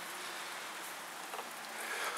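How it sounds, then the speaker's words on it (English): Light rain falling on a December morning in Des Moines, a steady soft hiss of drops with faint scattered patters, continuous and fairly quiet with no voices. "Having light rain this morning."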